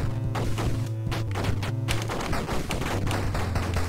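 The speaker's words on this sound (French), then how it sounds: "je tire sur tout ce qui passe devant moi" Rapid bursts of video game gunfire from shooting at enemies, loud dense volleys with brief gaps between them over a droning background game soundtrack.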